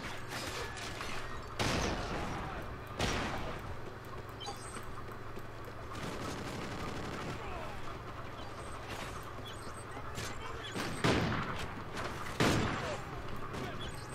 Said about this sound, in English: Not even seeing where they are, just shooting.